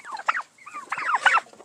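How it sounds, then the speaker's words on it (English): Farm turkeys gobble in a short burst of two or three warbling calls, fairly close and clear against a quiet background. "Turkeys"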